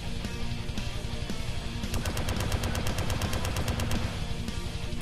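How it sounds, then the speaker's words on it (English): A high velocity auto gun in the Space Flash Arena video game lets off a rapid, evenly spaced burst of loud shots lasting about two seconds over a constant droning game background. "High velocity auto gun."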